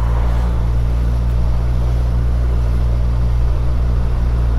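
A 2022 Suzuki Hayabusa motorcycle rolls at low speed through a 20 mph zone, giving a steady, loud engine drone mixed with wind noise and no pauses.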